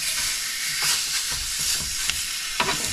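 Sausages sizzle and spit steadily in a hot Ridgemonkey pan during camper van cooking, a continuous close hiss broken by small pops and a few stirring scrapes.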